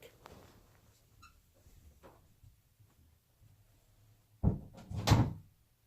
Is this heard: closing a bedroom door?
yes